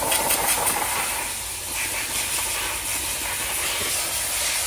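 A loud, continuous blast of compressed air hisses while the top of a manure spreader is blown off during repair work, close and steady with a slight dip midway.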